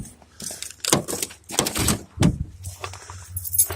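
A frozen door on a truck called the Blue Beast is forced open at 1 degree, with creaking, scraping and thumping handle and latch sounds, close and uneven, over faint background noise.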